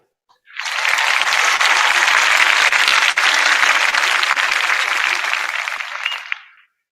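A large audience claps continuously for an award-winning school at an awards ceremony. The dense, loud applause starts abruptly, holds steady for about six seconds, then fades quickly to silence.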